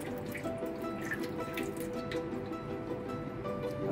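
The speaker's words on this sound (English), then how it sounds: "pour in the colored liquid into the tray" Colored liquid is poured into a tray in a simple classroom science demonstration, a continuous splashing trickle with drip-like detail, close and fairly loud, without speech.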